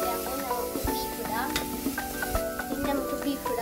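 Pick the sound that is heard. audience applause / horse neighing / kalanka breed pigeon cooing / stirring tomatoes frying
stirring tomatoes frying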